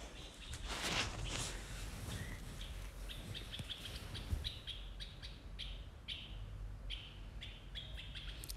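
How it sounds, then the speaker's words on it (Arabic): Small birds chirp repeatedly in short bright bursts, moderately distant, against a quiet outdoor background. "كتسمعوا الطيور كيغوتوا"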